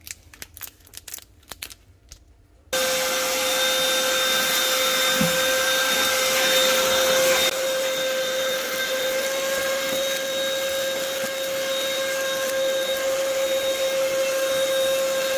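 A vacuum cleaner draws suction through a drip irrigation tube taped into a cooktop burner, starting abruptly after a few light handling knocks and then holding a loud, steady whine with a shrill tonal edge that shifts slightly partway through.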